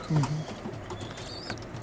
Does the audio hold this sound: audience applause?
no